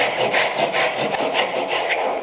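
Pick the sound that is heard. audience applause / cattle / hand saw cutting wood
hand saw cutting wood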